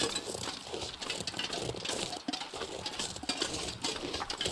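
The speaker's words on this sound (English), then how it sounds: "Birds." Birds in the survival game The Long Dark, a dense busy chorus of chirps and flutters running steadily throughout at moderate level, with no talk.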